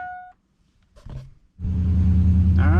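A Chevrolet Silverado pickup rolls out through a residential neighborhood, its engine swelling into a close, steady low rumble after a brief quiet pause.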